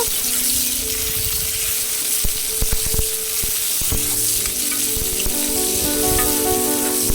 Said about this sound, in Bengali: এবার আমি কড়ার মধ্যে দিয়ে দিয়েছি একটা মিডিয়াম সাইজের টমেটো আর একটা গোটা পেঁয়াজ কুচি এটাকে ভালো করে ভেজে নেব